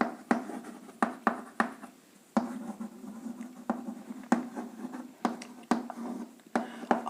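Chalk or marker strokes on a classroom board during a Class X chemistry lesson on acids, bases and salts, a run of sharp taps and short scratchy strokes at an irregular writing rhythm, close and clear, with no talking.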